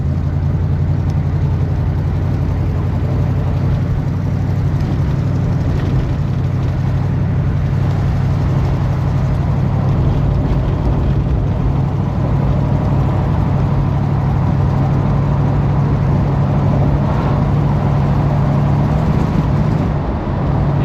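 Pontiac Grand LeMans, a big soft American muscle car, drives with a steady loud low engine drone and constant road rumble, continuous throughout with no talking.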